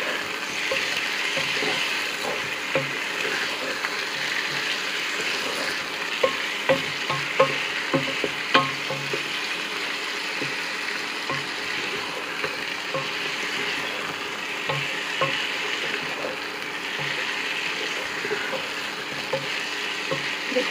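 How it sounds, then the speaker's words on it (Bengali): Chicken marinated with lemon and salt is fried and stirred for a Hyderabadi-style achari chicken kosha, a loud continuous sizzle under scattered clicks and scrapes of a spoon, with no talking. "মাংসটা একটু কষিয়ে নেব।"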